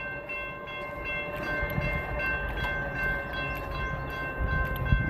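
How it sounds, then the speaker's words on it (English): A train rumbles past nearby with steady rolling noise and a sustained high tonal whine, no talking. "we'll let this train come through"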